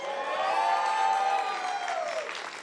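An E3 2018 EA press conference audience erupts in cheering and applause, a dense burst of whoops and clapping with a prominent sustained shout that fades after about two seconds.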